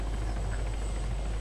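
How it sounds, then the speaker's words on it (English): Ghost Hawk helicopter in the Arma 3 video game, a steady, continuous rotor and engine drone with a low rumbling hum, fairly close and uninterrupted, with no voices. "There is a chopper right in front of us, that is a ghost hawk, I think."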